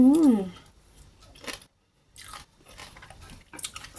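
Hot suki soup slurped outdoors in a cool breeze, with a few short, close sucking and crunchy eating noises separated by brief pauses.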